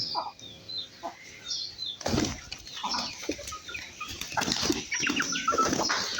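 Pigeons feeding in a loft with nests, wings flapping in several bursts, the loudest flurry about a third of the way in, mixed with soft cooing and rustling, fairly quiet and near.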